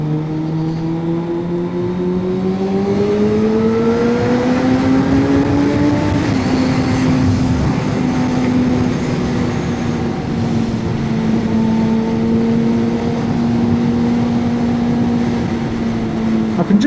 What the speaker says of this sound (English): I am trying to learn the art and the trick of downshifting.